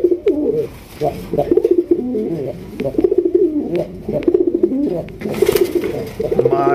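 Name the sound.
pigeon cooing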